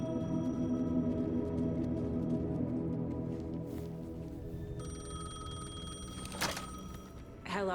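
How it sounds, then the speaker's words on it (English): Payphone ringing in the video game Alan Wake 2, a steady electronic ring layered over a droning ambient game soundtrack, moderately loud with no talking. "The payphone was ringing."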